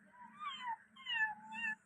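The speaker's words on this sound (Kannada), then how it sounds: "ಬೆಕ್ಕು ಬೆಕ್ಕು ಓ ಬೆಕ್ಕು ಅದು" A cat meows close by, two or three drawn-out, wavering cries in quick succession, fairly soft against a quiet background.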